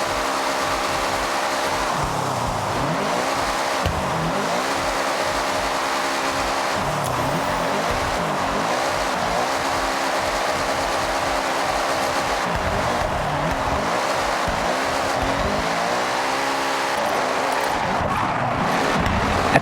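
A drift car in Forza Horizon 6 does donuts in an empty parking lot. Its engine revs rise and fall continuously with steady tire squeal, loud and sustained throughout.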